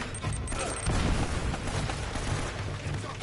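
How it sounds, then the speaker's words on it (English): A grenade goes off in the game Uncharted: Drake's Fortune, its dull boom near the one-second mark swallowed in dense, noisy combat din that rumbles on continuously. "Grenade."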